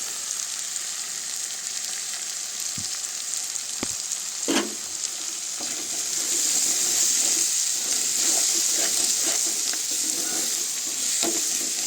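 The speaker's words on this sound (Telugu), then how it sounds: "రెండు గుడ్లండి వేస్తున్నానండి." Eggs sizzle and fry in a pan with okra, cooked without water. A steady frying hiss is broken by a few sharp clinks and scrapes of stirring, and the sizzle swells louder in the second half.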